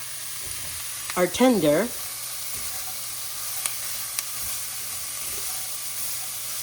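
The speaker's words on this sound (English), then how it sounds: "So we're just gonna saute this for a little bit until the vegetables" Onion and vegetables sautéing in a pot for creamy potato and ham soup, a steady soft sizzle with brief stirring, and someone speaking a few words over it near the start.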